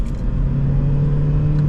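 A Seat Leon 1.6 TDI diesel pulls in second gear, its engine a steady, close low drone that holds even throughout.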